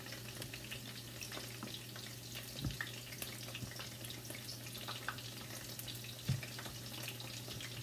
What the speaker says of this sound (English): And then we're gonna finish frying the rest of them.